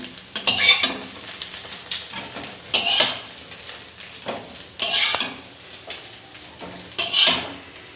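A fried egg is lifted from a pan with a metal utensil, several short scraping and clinking strokes spaced a couple of seconds apart over a faint background sizzle, with no talking.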